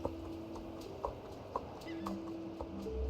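An Irish Cob pony in the video game Star Stable Online clip-clops with a few spaced, crisp hoofbeats at an easy walking pace, fairly near.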